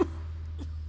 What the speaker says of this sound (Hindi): आप हमेशा खांसते क्यों रहते हो?